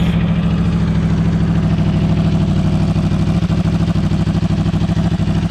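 An Aprilia RSV4 1100 Factory V4 motorcycle engine running at a loud, close, steady idle, its even low throbbing pulse continuous throughout with no talking.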